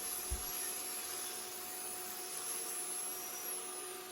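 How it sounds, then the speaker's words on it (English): A vacuum cleaner sucks up concrete grinding dust while a garage floor is prepared, a steady, loud whine and airy rush that holds for the whole stretch, with one faint knock near the start. "I'm doing my best to get the dust to curve into the vacuum."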